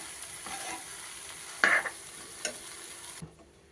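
Batata poha is stirred in a pan, a faint, soft scraping and shuffling with a few sharper knocks of a spoon against the pan, followed by quiet.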